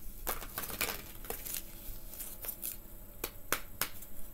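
A deck of cards is shuffled up close, soft and quiet, with irregular riffling flicks and crisp snapping taps spread across the whole stretch.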